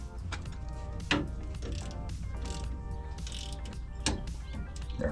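A torque wrench ratchets on an Icon leaf pack bolt of a Toyota Tacoma, tightened to 15 foot-pounds. Close, steady metallic clicking runs throughout, with two sharper, louder clicks standing out.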